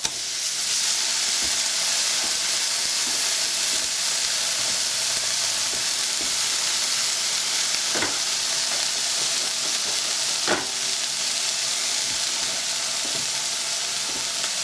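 Steak fries in a pan for a peppercorn sauce dish, giving a loud, continuous close sizzle and hiss with occasional small pops and clicks, and no talking.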